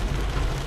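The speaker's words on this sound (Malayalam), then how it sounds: "Mumbai style rain." Heavy monsoon rain falls in Mumbai as a dense, unbroken rushing roar with a low rumble beneath it, close and fairly loud throughout.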